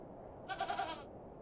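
A single goat bleat from The Excavation of Hob's Barrow, a clear wavering cry lasting about half a second, moderately loud against a low background hum.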